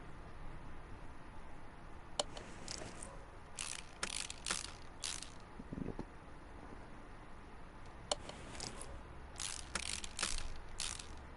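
Ratchet wrench clicks undo bolts in the video game Car Mechanic Simulator, coming in quick bursts of rapid ticking, fairly faint over a low background hum.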